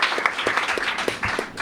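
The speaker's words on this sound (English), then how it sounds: "Please give them a warm round of applause as well." An audience at a music and poetry recital in a concert hall applauds, a steady wash of many hands clapping at moderate distance with no pauses, sustained throughout.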